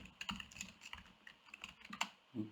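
Fingers tap on a computer keyboard in quick, uneven bursts of soft clicks, close and fairly quiet, with short pauses between runs of keystrokes.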